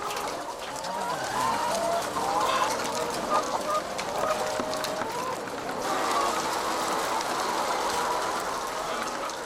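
Laying hens in a crowded battery-cage egg farm, a dense wash of overlapping clucks and squawks from many birds at once, steady and continuous over a hum of barn noise.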